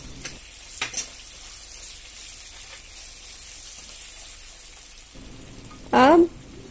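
Fennel seeds, mustard seeds and turmeric frying in oil while being stirred for a quick green chilli dish give a soft, steady sizzle with a couple of light utensil knocks; a short voice cuts in near the end.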